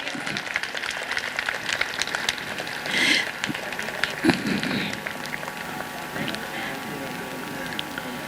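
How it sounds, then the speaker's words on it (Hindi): Scattered applause from parents and guests at a school annual function, light crackling claps with a few voices talking over them and brief louder bursts midway. "तालियां आपकी तरफ से"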